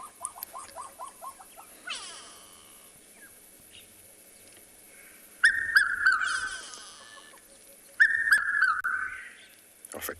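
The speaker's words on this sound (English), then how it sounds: "we heard the characteristic call of the red-chested cuckoo" Recorded red-chested cuckoo calls played back during a South African morning safari: repeated clear whistled phrases, with short rapid note series at the start and two louder, strident bursts later, over faint background.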